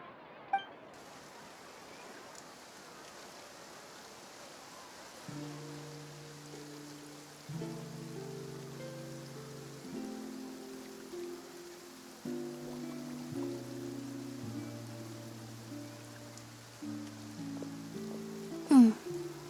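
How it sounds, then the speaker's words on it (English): Steady soft rainfall in a Genshin Impact game scene, a light continuous patter with gentle music rising partway through and a sharp chime near the end. "Looks like rain."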